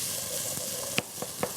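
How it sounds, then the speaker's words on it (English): Food sizzling in a frying pan for a leek, potato and pumpkin stew, a steady broad hiss with a few sharp utensil clicks near the end, close and alone. "I really love the sizzling sound here"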